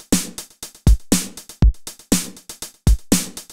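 Snare drum hits are fed through a reverb whose gate is keyed from the snare by sidechain, so each crack gets a short burst of dense reverb that cuts off abruptly, repeating in a steady punchy pattern with silence between hits.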